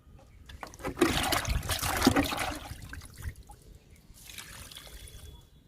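Liquid plant tonic trickles and splashes onto the soil of a garden oleander, a soft uneven pour rising for a few seconds, then easing into a fainter dribble.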